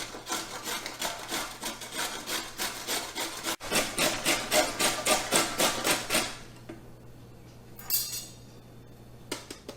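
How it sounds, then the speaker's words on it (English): Vegetables for KFC-style coleslaw are rubbed against a grater in quick, regular rasping strokes, loud and close, then pause before a few lighter scrapes. "So I'm just going to grate that, and then I'll add that to my salad dressing here."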